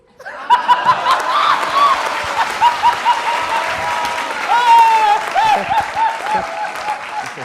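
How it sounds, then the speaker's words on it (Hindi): Live audience at a Hindi political comedy show claps in steady, dense applause, with laughter and a voice talking over the clapping throughout. "आनंद आ जाए तो ताली बजाएगा"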